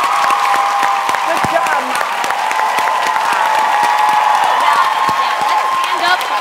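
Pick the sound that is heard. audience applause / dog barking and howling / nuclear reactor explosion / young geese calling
audience applause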